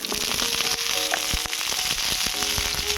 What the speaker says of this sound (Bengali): এবারে ফুলকপিটা ভেজে নেব।